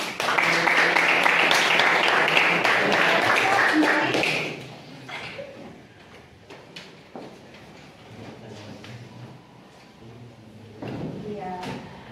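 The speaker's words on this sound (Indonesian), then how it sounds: "Beri aplaus dulu ya sebelum saya suruh duduk." A classroom group finishing its presentation receives applause from students, a loud burst of clapping for about four seconds that then fades into quieter room noise and murmuring voices.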